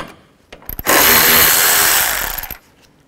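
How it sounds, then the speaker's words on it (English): A power tool with a 10 mm socket zips bracket bolts off during radiator replacement on a 2007–16 GMC Acadia, giving one loud, steady whirring burst of under two seconds after a few short clicks. "I'm gonna take these brackets off, use a 10 millimeter socket"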